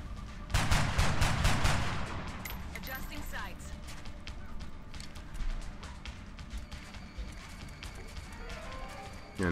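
Gunshots in the video game XCOM: Enemy Within crack out in a short loud volley early on, followed by scattered sharper reports and game effects while someone talks over the action.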